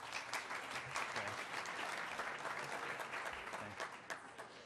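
Town meeting audience in Amherst applauding steadily, a dense wash of many hands clapping at even strength throughout, with no talk over it.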